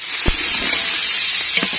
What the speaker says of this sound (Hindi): ऑयल शामिल करेंगे जी पतीले में, जिसमें हमने प्याज शामिल करना है।